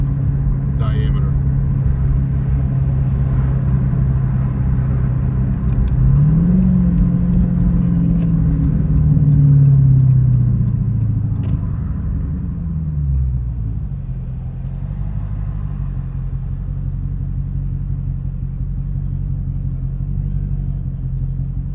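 A Dodge SRT Hellcat's engine and exhaust rumble steadily and deeply from inside the car during a ride-along, swelling in pitch for a few seconds as it accelerates and then settling back into a constant drone.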